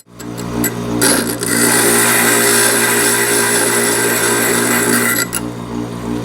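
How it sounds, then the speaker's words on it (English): An electric grinder works the edge of a glass piece for stained glass fitting, a steady loud whine that starts about a second in, holds for four seconds and then drops back to a lower motor hum. "Let's go ahead and grind that off a little."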